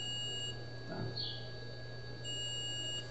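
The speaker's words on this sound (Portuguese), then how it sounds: "Continua bipando dos dois lados" A multimeter on continuity test gives a single short, high electronic beep while probing a shorted laptop circuit board, clear but modest over a steady background hum.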